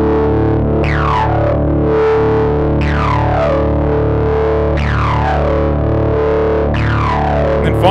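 An ELMYRA 2 drone synth holds a thick, distorted sustained drone while added harmonics sweep downward in repeated swooping waves roughly every two seconds, loud and close with no voices.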